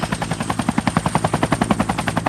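A helicopter ferrying prefabricated artificial tree sections to a theme park construction site, heard as a loud, rapid rhythmic blade chop pulsing steadily throughout, close by and alone.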